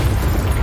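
A Confringo spell blast in Hogwarts Legacy, one short, loud and close low-end boom that lasts under a second.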